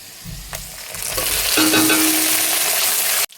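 Ginger-garlic paste and cumin-mustard paste drop into browned onions in a kadai for a fish curry. A soft sizzle surges into a loud, sustained hiss of frying, then cuts off abruptly.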